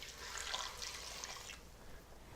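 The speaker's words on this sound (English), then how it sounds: "In goes the chicken broth." Chicken broth poured into a soup pot of cooking potatoes and garlic, a soft, steady liquid splashing and trickling for about a second and a half before easing off, fairly quiet.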